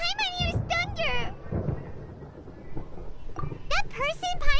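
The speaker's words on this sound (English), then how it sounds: "Paimon hears thunder!" Deep rolling thunder from the Genshin Impact video game rumbles low beneath animated character voices, continuing steadily under the talk across the whole stretch.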